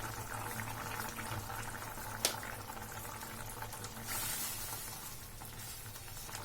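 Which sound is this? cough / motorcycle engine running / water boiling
water boiling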